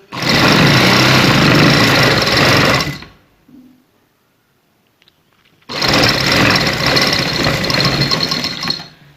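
A sewing machine stitches a shalwar hem in two loud, continuous bursts of steady motor whirr and needle clatter, separated by a few seconds of near silence with faint handling clicks.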